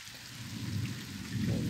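During a thunderstorm, steady rain hisses while a low thunder rumble rolls and swells, staying loud and continuous to the end.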